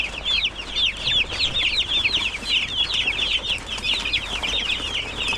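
Young chicks on booster feed on a farm peep and chirp continuously in a dense, overlapping flock, close and fairly loud, with no voices.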